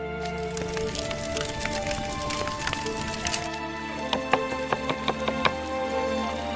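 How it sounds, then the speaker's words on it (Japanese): Quick knife chops strike a cutting board in a brisk, uneven rhythm over a soft crackle of burning firewood and sizzling meat. "薪の燃える音に混じって軽快な包丁のリズムと肉の焼けるジューシーな音が"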